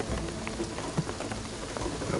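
Steady rain falls in the video game Shadow of the Tomb Raider, a dense hiss of drops on surfaces with scattered louder splats, constant and fairly close with no talk.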